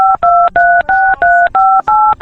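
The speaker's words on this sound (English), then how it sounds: "Chris attempts to convince Alec that they got disconnected by pressing random numbers on his phone" Random keys pressed on a phone keypad give a rapid run of about eight sharp DTMF beeps, each short two-tone chirp loud and close, separated by brief gaps in an uneven rhythm.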